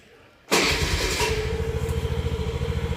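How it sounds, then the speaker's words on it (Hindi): A TVS Jupiter scooter engine starts after brief near-silence, catching abruptly and settling into a close, steady, rapidly pulsing idle. "एक बार स्कूटी स्टार्ट कर लेते हैं हम।"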